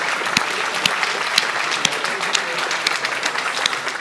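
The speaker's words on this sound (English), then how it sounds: "please give a round of applause to yourself" Audience at the Magnolia Developer Days 2018 keynote applauding steadily and fairly loudly in a hall, a dense wash of clapping with a few sharper claps standing out and no voices.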